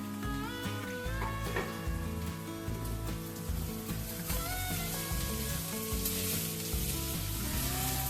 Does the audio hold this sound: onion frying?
yes